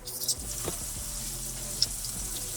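A sous vide ribeye steak sears in a pan, giving a soft, steady sizzle at moderate volume with a faint tick or two, and no voices.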